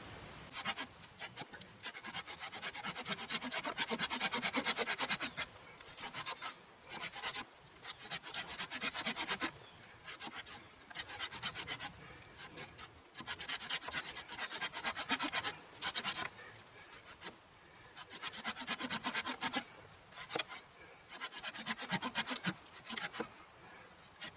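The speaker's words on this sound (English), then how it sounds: "Now that piece we just cut there was a piece of hardwood." Gerber folding saw cutting through a piece of hardwood firewood outdoors, with steady rasping back-and-forth strokes in bursts separated by short pauses, close and fairly loud, no talking.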